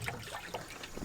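Water runs steadily into a livestock water trough on a pig farm outdoors, a continuous close trickling and splashing with no voices.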